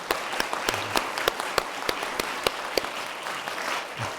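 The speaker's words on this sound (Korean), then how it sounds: "우리 다 같이 일어나서 우리 하나님께 영광의 박수 올려드리도록 하겠습니다" A church congregation at a Sunday Easter service gives applause, a soft, spread-out clapping with distinct sharp claps standing out over a steady wash, heard from a distance.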